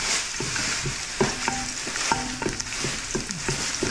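Garlic frying in a pan gives a steady bright sizzle, stirred with scattered clinks and scrapes of a utensil against the pan throughout.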